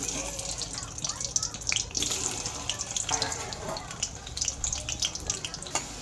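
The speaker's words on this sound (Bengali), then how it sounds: "তো আমি আলুগুলোকে প্রথম ভেজে নেব" Potato pieces frying in white oil in a wok, giving a steady, moderately loud hiss and crackle with scattered pops throughout, heard close and without talk.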